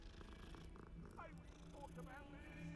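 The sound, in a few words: cat purring while being petted in video game Hogwarts Legacy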